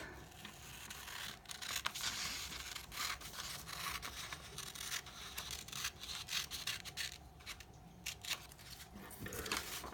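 Scissors cut paper along a dotted line, a quiet run of soft snips and papery rasps that continues close by with no talking.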